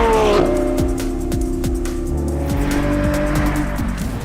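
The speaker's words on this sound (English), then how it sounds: "we are driving flat out, using the brakes very hard on a racetrack" A Lamborghini Revuelto driven flat out on a racetrack under hard braking, its engine roaring loud and close, with repeated rapid gear shifts and sustained tire squeal and skidding throughout.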